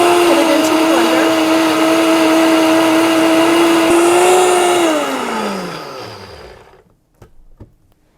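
A blender purées a cheesy sauce made with potatoes or cauliflower, whirring loudly and steadily for several seconds before the motor winds down and stops, followed by a few faint clinks.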